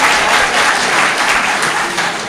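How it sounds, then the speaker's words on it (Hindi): An audience at a mushaira poetry recital in Khamgaon claps in a dense, sustained burst of applause, loud and close, with no talking over it. "मुझे ताली बजाकर इजाजत दे के मैं कुछ शेर सुना सकूँ"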